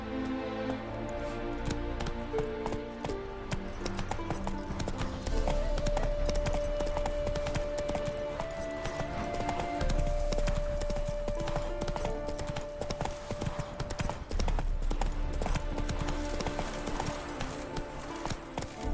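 Horse hooves clip-clop in a steady galloping rhythm in The Witcher video game, with game music playing underneath.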